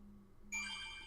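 A phone ringtone cuts in suddenly after a low steady hum, ringing as a bright electronic tone that holds for the rest of the brief moment with no one talking.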